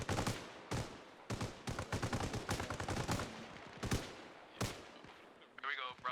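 Gunfire rattles through a video game town as suppressive fire, in loud, close, rapid bursts separated by short gaps, with a brief different sound at the end.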